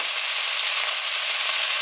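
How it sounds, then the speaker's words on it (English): Onions frying in a pot as the base for a Flemish beer stew, a constant bright, close sizzle with no voices. "I want to go ahead and add these onions because I want to get them just a little bit browned or fried"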